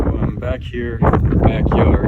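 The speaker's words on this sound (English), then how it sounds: "It's a pretty windy day out, so sorry if that affects the audio." Wind gusts buffet the microphone outdoors in a backyard, a loud, low rumbling roar running steadily under a man's close speech.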